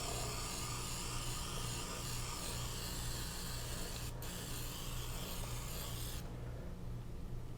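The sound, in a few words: oil spritzer spraying olive oil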